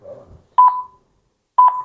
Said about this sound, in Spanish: Los pitidos de la radio para el final.